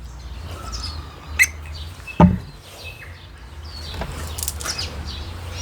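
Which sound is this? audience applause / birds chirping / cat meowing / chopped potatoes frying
birds chirping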